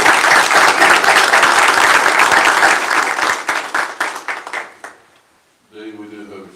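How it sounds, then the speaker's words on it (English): Dense applause from a council-meeting audience honoring the mayor pro tem, loud and sustained before thinning into scattered claps and fading, then a voice begins speaking. "Let's give him another round of applause."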